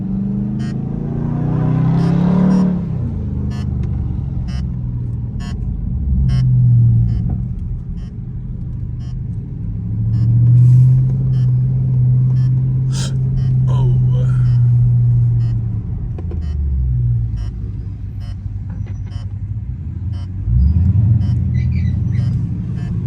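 A Jeep Trackhawk engine drones steadily with a rising and falling supercharger whine as it accelerates and eases off in traffic, close and loud throughout.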